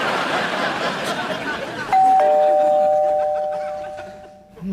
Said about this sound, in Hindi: नीचे घंटी बज गई